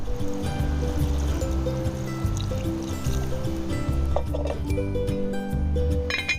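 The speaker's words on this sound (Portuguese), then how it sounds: "Nesta fase vamos acrescentar então a água." Water poured into a pot of stewing meat with tomato paste during a local home-style cooking session; a steady, continuous close pour and splash over a dense background bed.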